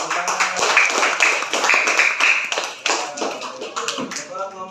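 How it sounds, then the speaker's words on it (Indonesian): Schoolchildren in a classroom clap their hands in loud, uneven bursts of distinct claps, with voices chattering among the clapping. "Ya, bagus. Tepuk tangan."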